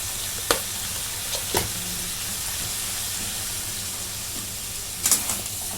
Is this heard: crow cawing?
no